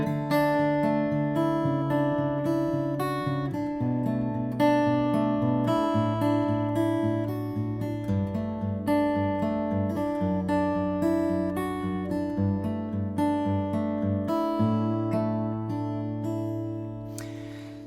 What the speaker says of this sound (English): We're going to add a melody, and the cool thing is that the melody is always going to be the same, just 4 notes. It sounds like this.